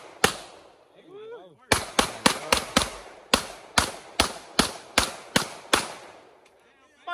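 Gunshots ring out at an outdoor shooting range from a chrome handgun, first a single loud crack, then a long run of about a dozen sharp, evenly spaced shots with ringing decay between them, and a brief voice near the start.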